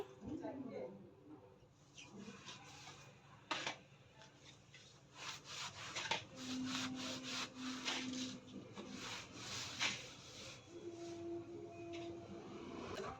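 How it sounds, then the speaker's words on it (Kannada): Soft, repeated strokes of a cloth wiping plant leaves, close by, with a light scratchy texture and occasional faint voices in the background. "ಬಟ್ಟೆ ತಗೊಂಡೆಲ್ಲ ಕ್ಲೀನಾಗಿ ಎಲೆ ಎಲ್ಲ ಒರೆಸ್ತಾ ಇದ್ದೀನಿ"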